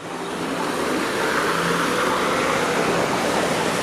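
A truck passes on Highway 7, a busy multi-lane road in Richmond Hill, Ontario, its broad steady roar close and loud throughout, with no talk.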